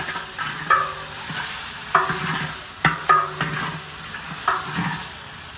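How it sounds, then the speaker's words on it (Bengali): A pan of meat fries with a steady sizzle while a utensil stirs and scrapes it in regular strokes, close and fairly loud, without any talking. "এখন এখানে মাংসটাকে দিয়ে দেবো"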